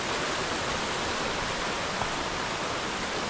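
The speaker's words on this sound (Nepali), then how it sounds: "यहाँबाट चाहिँ घट्टे खोला आइपुग्यो" Ghatte Khola, a rocky village stream, rushes with a steady, dense wash of water noise that holds unbroken and fairly close throughout, with no voices.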